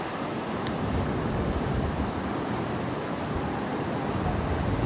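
Rough, stormy sea surf pounding the beach near the Kasbah of the Udayas in Rabat, a continuous loud roar of crashing waves with wind buffeting the microphone and no voices.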